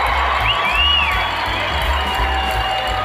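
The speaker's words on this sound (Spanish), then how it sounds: "Escuchen la ovación para las mexicanas." Arena crowd at a women's volleyball world championship final cheering an ovation for Mexican players, a steady, loud wash of cheers and whoops with no clear clapping rhythm.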